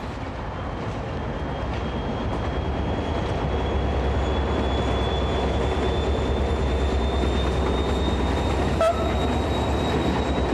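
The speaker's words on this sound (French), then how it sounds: "le Grenoble-Nantes, pas peu fier de représenter le meilleur du diesel à la française" An SNCF CC 72000 diesel locomotive runs along the Saône riverside near Couzon-au-Mont-d'Or on the Grenoble–Nantes route, with a loud, steady engine drone and wheel roar on the rails, a faint rising whine, and a brief clatter toward the end.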